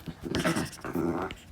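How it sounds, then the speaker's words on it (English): Dogs playing indoors, giving short growls and whimpering play noises, close and fairly quiet, lasting under two seconds. "my dogs are playing"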